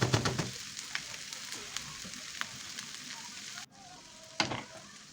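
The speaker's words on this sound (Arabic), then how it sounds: "سبتهم طبعا يشوحوا مع بعض شويه ويخشوا في السوا." Alexandrian sausage sautés in a pan with bell peppers and hot peppers, giving a soft, steady sizzle with faint stirring clicks, quiet and close, briefly dipping before a scrape near the end.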